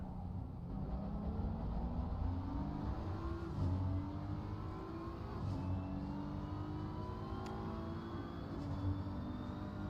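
Onboard engine of the leading Van Wall SimSport BMW GT race car in Assetto Corsa Competizione at Spa, a steady loud drone rising through gear changes with no voices over it.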